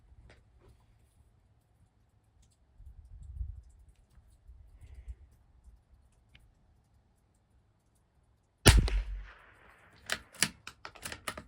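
Savage Mk II rifle firing Eley Team ammunition at a 200-yard target, with a sharp crack late in the clip followed by several quicker, fainter reports after a long quiet stretch of low outdoor rumble.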